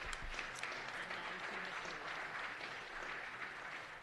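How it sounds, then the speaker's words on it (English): Steady applause from an audience at a city council meeting, a continuous wash of many hands clapping at even volume throughout, with no distinct voices over it. "one more round of applause"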